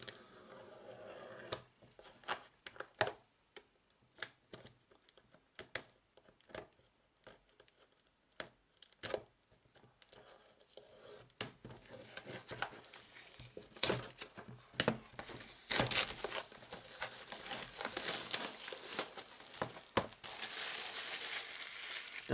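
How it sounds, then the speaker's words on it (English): Cellophane wrapping is peeled and crinkled off the box of a Bolt Action British Airborne Bren Carrier model kit. Faint, scattered crackles and rustles start out sparse, then grow busier and louder toward the end, close by and with no talking. "let's start with removing the horrible cellophane"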